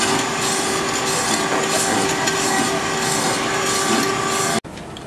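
A soil sample, with rocks already picked out, is ground in a steady, continuous rasping scrape that holds at a constant loudness for several seconds, then stops abruptly near the end.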